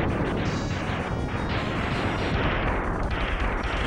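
In the MegaMan X video game a ship is destroyed amid a dense, continuous barrage of loud blasts and crashing explosions that rumble without pause and with no talk.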